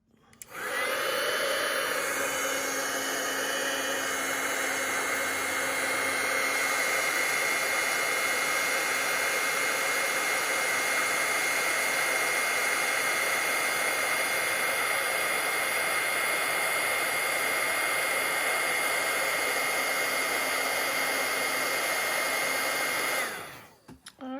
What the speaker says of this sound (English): And we're going to use our heat tool and heat this up.